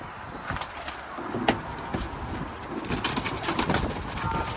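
Several pigeons, including teddy and Rampuri breeds, coo repeatedly in a loft, soft rolling calls overlapping against steady background noise with occasional rustling.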